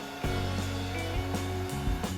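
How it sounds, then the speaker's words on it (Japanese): A hair dryer blows warm air across resin art, a steady close whirring hum with tonal motor whine, interrupted by a few brief knocks or clicks. "はい、ドライヤーのみはこんな感じ。"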